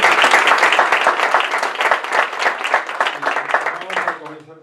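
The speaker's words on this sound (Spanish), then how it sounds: "les pido que le demos un aplauso" An audience applauds the speakers at a lecture with loud, dense clapping that fills the room. The clapping keeps up steadily and then fades toward the end, with a voice coming in faintly.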